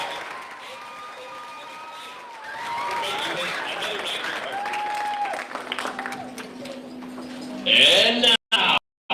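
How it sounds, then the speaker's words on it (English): An audience applauds at the Cosmopolitan Club's 71st Miss Salem pageant, with moderately loud clapping that swells and holds for several seconds among crowd noise and scattered voices, then ends with abrupt loud bursts. "Please give Steve and Lisa a round of applause for their wonderful contribution to the Miss Salem."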